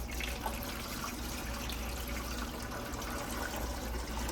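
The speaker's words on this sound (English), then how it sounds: "put the good water in the big container." Filtered water pours steadily into a large container, a continuous soft gushing stream, quiet and close with no talk.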